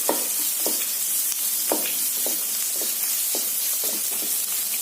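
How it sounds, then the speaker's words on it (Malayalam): Onion, ginger, garlic and coconut sautéing in a pan over medium flame, a steady close sizzle broken by the repeated scrape and clack of a spoon stirring, with no talk. "ഒരു 2 മിനിറ്റ് ഒന്ന് വഴറ്റിയെടുത്താൽ മതി, ഒരു മീഡിയം ഫ്ലെയിമിൽ വെച്ച്."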